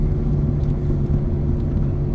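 A Ferrari rolls steadily up the pit lane, giving a low, continuous engine rumble heard from inside the car at an even, unhurried pace with no speech.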